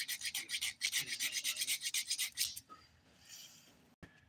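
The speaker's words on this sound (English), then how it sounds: "I'm starting my filing using the 100 grit side of this" Quick back-and-forth rasping strokes from the 100 grit side of a thin nail file on nails, close and fairly soft, in a steady rhythm for a couple of seconds before fading into quieter rubbing.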